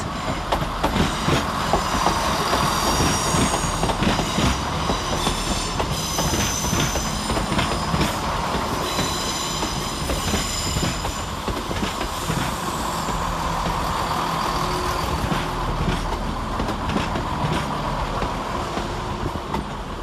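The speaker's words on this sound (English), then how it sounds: "we see the arrival of 168 110 and 168 3422, terminating with a Chiltern Railways service off Oxford" A Chiltern Railways Class 168 diesel passenger train rolls into London Marylebone station steadily and loudly, wheels clacking and squealing against the rails, with a constant hiss and rumble throughout.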